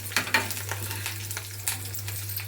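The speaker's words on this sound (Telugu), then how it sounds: "తాలింపులు జీలకర్ర ఎల్లుల్లిపాయ ఎండుమిరకాయ కరివేపాకు అన్నీ వేసేస్తాను" Tempering spices (cumin, garlic, dried red chilies, curry leaves) sizzle and crackle in hot oil, with sharp pops over a steady frying hiss and a low background hum.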